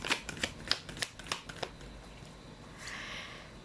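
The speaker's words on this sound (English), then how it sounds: "You saw me shuffle as always." Tarot cards shuffled by hand during a card reading, a quick run of crisp riffling snaps and flicks in the first half, then a softer sliding rustle as the deck settles, close and clear with no talking.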